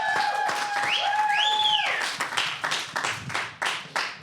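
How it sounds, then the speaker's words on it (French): Audience clapping at a live podcast recording, opening with rising whistles over the applause, then thinning into scattered, separate claps that fade one by one. "Il mérite une immense applaudissement."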